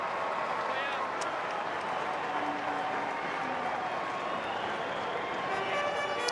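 Stadium crowd noise rises as fans cheer and applaud a goal for the Gold Coast Suns against Collingwood in an AFL match, a dense, sustained roar with scattered claps throughout.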